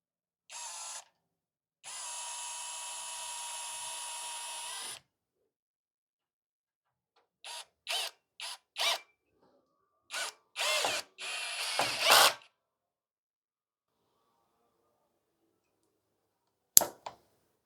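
Tecepo 21V cordless drill driving screws into a wooden slat: a short whir, then a longer steady motor run, followed by a string of brief bursts and a few clustered runs, with a sharp click near the end; no talking.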